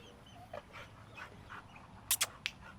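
An anxious female dog at an animal shelter whimpering in soft, high whines, a few faint cries followed by sharper yips, close by in a quiet room.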